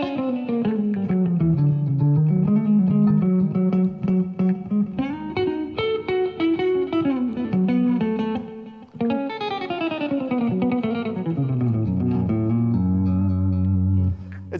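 An electric guitar with effects plays a chromatic scale at three notes per string in fast, continuous legato runs. The scale climbs, then falls to low notes, loud and alone with no talking.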